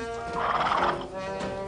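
A horse whinnies in a sound effect, one loud, close, quavering neigh that rises and wavers for over a second and then trails off, with no voices.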